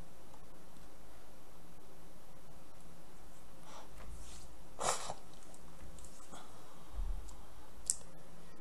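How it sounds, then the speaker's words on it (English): A prying tool pops up the keyboard of a Dell Inspiron 17 5759 laptop, giving a few sharp, faint plastic clicks and snaps spaced several seconds apart over quiet room noise. "you shove your prying tool in it and you pry up and it pops up the keyboard"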